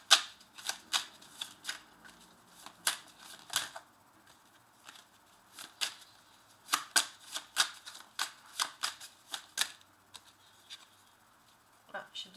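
Tarot cards riffled and shuffled by hand in repeated crisp bursts of papery flicks, close and moderately loud, with a couple of cards dropping partway through; no one speaks.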